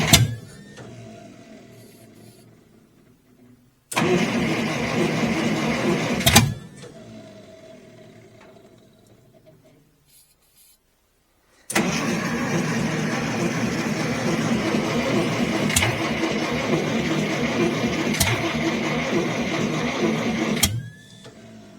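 An Allis Chalmers engine on a LeRoi 125 CFM air compressor cranks and runs roughly in two bursts, a loud, close, clattering chug that catches for a few seconds, stops, then runs longer before shutting off.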